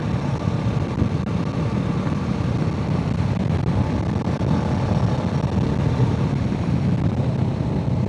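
Strong wind buffets the microphone while riding a Kawasaki Z650RS motorcycle past windmills in the Netherlands, a loud, continuous low roar of rushing air mixed with engine rumble, steady throughout with no talk.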